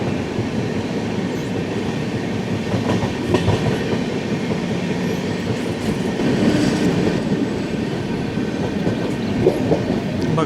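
16332 Express train running through a ghat section, heard from inside a 2A coach as a steady loud rumble and rattle of the carriage with rhythmic wheel clatter and faint squeals, continuous throughout.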